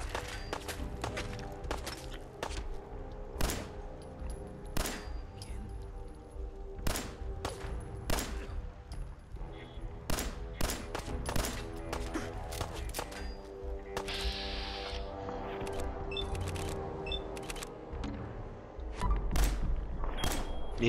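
Rapid Fallout 4 gunfire, sharp repeated shots and bursts crackling throughout over a low rumbling background, fairly busy and steady.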